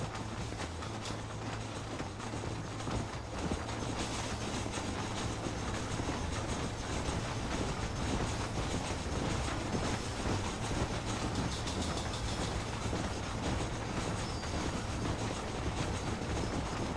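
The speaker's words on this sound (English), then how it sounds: "I wish I could just ride the train." A train in Red Dead Redemption rolls along the rails with a continuous rumbling clatter and a low engine drone, steady and close throughout.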